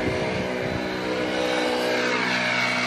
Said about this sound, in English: Riding their moped.